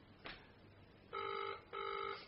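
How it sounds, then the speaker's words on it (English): A phone call rings through from a GPS tracker test: two repeated electronic ring bursts, each about half a second, heard clearly over a faint background hiss. "It's now ringing."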